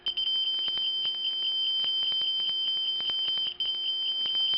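An AT&T American Bell home security smoke detector sounds a loud, piercing electronic alarm tone that pulses rapidly and steadily at close range, with no voices present.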